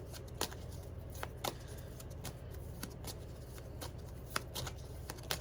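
Quiet card shuffling: soft, irregular flicks and snaps of cards over a low background hum, with no voices.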